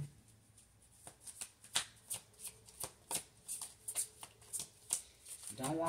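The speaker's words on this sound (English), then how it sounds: "I have to make sure I'm shuffling them right" Tarot cards are shuffled by hand up close, with a string of crisp riffling slaps that come at an uneven rhythm, and a voice is heard near the end.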